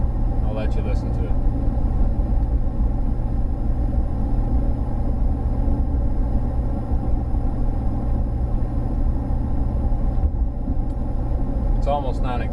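Steady low drone of a truck cabin cruising uphill at 72 mph around 1700 RPM with a 30-inch FTE resonator, a constant rumble filling the whole stretch with no talking.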